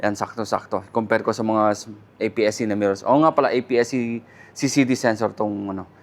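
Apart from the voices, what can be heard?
None of the usual background noises is heard.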